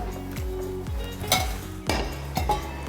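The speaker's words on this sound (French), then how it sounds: "Je vais mettre une petite cocotte sur la plaque rapide." Clinks and knocks of a small casserole pot set on the fast hot plate of an AGA cooker, several short metallic taps ringing briefly at close range.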